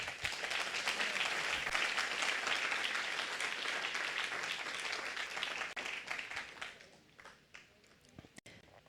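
A church congregation at a Spanish-language worship service claps loudly in a thick, sustained round of applause. It thins and fades over the last few seconds, leaving a few scattered claps and faint room noise.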